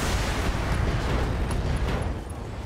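An explosion in the BattleTech mech combat game, a loud, dense roar of blast noise that rumbles on for a couple of seconds and then slowly eases off.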